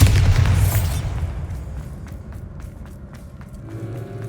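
A loud Bombarda spell blast from Hogwarts Legacy erupts at once, a heavy booming burst that fades into a lower rumble with a few faint clicks and thuds trailing after.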